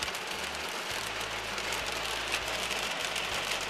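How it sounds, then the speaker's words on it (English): Hail pelts a surface in a rapid, unbroken clatter of tiny clicks, close and even, over a faint low hum. "That clicking sound is the sound of hail."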